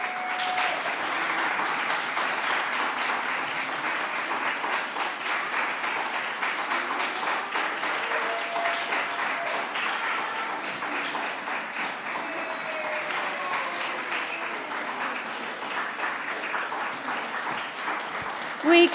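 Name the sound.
audience applause for volunteers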